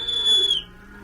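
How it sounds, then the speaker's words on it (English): One short, shrill whistle blast, loud and close, holding a steady pitch before sliding slightly and cutting off. "Where's that doggone whistle?"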